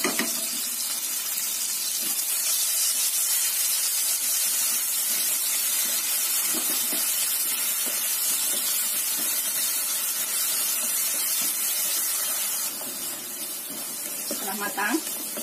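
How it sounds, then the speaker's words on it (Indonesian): Ground chili spice paste (bumbu ulek) sautés in hot oil for an Indonesian tofu dish, giving a continuous, even sizzling hiss that stays steady and fairly loud throughout. "Kita masukkan bumbu yang sudah diulek. Kita tumis sampai matang supaya nggak tercium bau langi cabai ya."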